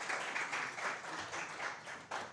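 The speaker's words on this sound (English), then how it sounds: "Can we have another round of applause for Dr." A workshop audience applauds a presenter after a survey results session, a steady mid-level round of clapping that swells and eases over a couple of seconds with no voices.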